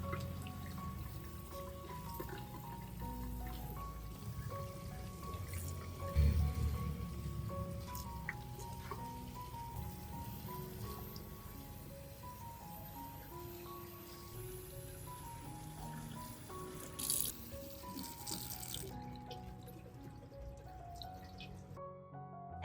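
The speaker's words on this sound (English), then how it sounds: "The next step is to wash the vegetables under running water." Tap water runs over parsley and green onions being washed, with faint irregular splashes and drips at a low level throughout, nearby and quiet.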